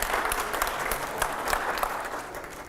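Dense, steady applause from a studio audience at a televised editors' panel show, loud and continuous for a few seconds.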